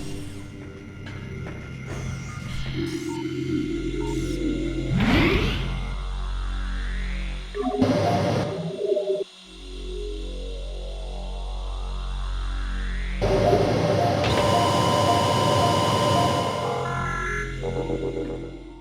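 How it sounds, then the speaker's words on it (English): A steady low electronic hum from a save station in Metroid Prime drones beneath synthetic tones, with rising sweeps and brief bursts of electronic effects over it. "Save stations emit a distinctive electronic hum"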